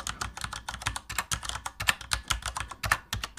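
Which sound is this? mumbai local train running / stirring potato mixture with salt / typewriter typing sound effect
typewriter typing sound effect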